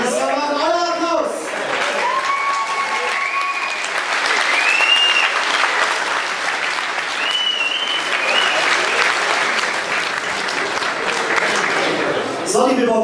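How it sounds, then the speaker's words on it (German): Sustained audience applause at a boxing gala in Nuremberg after a performance, thick and even throughout with scattered whistles and cheers riding on top, and brief talk at the start and end. "Das war mal euer Applaus."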